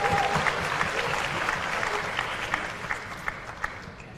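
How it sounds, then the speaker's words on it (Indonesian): Loud audience applause in a hall for a deputy speaker of the Indonesian parliament at a gathering of Jakarta student council leaders, dense clapping that slowly thins, with individual claps popping out toward the end. "tepuk tangan untuk Pak Haji Cucun dan muda"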